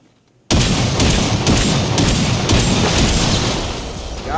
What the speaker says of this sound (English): I'm gonna blow this car up now that we're done with it.